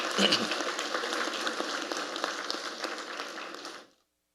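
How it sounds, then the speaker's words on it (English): An audience at an anniversary panel discussion applauds steadily, a dense, even wash of clapping that cuts off abruptly near the end. "So a round of applause, please, again for Dr. Henry."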